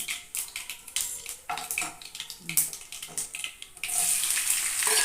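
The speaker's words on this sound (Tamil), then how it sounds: "எண்ணெய் போட்டு கடுகு போட்டுக்கோங்க" Mustard seeds spatter in hot oil in a pan for Tamil-style brinjal thokku, a dense crackling hiss that builds to a steady loud sizzle near the end, with faint voices in the background.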